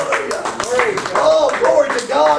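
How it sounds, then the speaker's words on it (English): A church congregation claps their hands during a lively service, the sharp claps running steadily under a prominent voice that speaks or sings over them. "Let's give the Lord a hand clap this morning."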